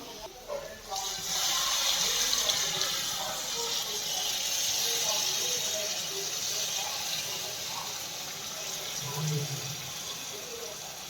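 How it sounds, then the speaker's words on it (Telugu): Tamarind extract pours into a pan of Telugu-style fish curry (chepala pulusu), a steady watery hiss and gurgle that runs throughout at moderate level, with a brief low bubbling near the end. "దీంట్లో ఇప్పుడు మనం రెడీ చేసుకునే చింతపండు పులుసు పోస్తాను."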